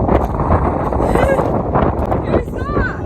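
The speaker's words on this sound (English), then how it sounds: "it's so windy, what the heck?" Gusty outdoor wind buffets a microphone on a sunny day, making a loud, continuous rumbling roar with shifting gusts.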